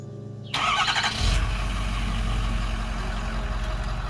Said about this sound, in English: so I'm gonna go ahead and remote start it.